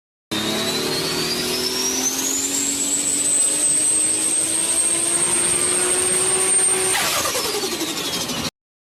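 An engine turbocharger spools up with a loud whine that climbs steadily in pitch, holds high over a constant engine drone, then falls away sharply near the end.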